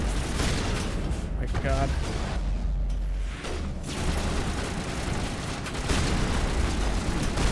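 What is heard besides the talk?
shotgun fire in close combat, video game Mass Effect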